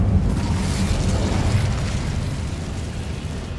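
Incendio fire spell in Hogwarts Legacy, a loud sustained roaring blast of rushing flame and rumble that holds steady for several seconds and then eases slightly.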